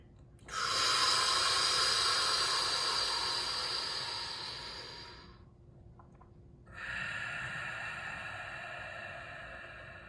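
Deep, slow breathing during a yin yoga session: a long, loud airy hiss of about five seconds fades out, then after a short pause a second long breath begins, close and steady with no talk.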